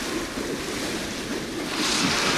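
Surging water waves wash and hiss in Alan Wake 2, a steady broadband rush that swells louder near the end, with no voices over it.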